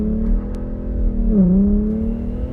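An automatic Infiniti Q50 in personal mode with traction control on pulls hard, its engine droning loud and close, the pitch dipping briefly at a shift before climbing again.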